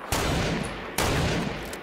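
Two loud sniper rifle shots in a video game, sharp cracks spaced about a second apart, each trailing off into a long echoing tail.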